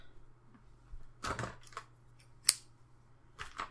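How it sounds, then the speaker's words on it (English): Scissors snipping knitting yarn, a few quiet crisp cuts, with one sharper snip standing out, close and alone in a hushed room. "And I'm just going to cut off a good amount"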